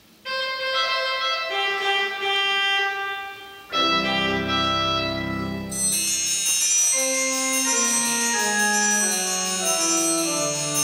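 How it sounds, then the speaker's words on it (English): Little bells of a Zimmerstern in recorded music, bright tinkling tones over sustained organ-like chords, with a low swelling passage midway before the high ringing returns more densely. "I hope you can hear the little bells of the Zimmerstern."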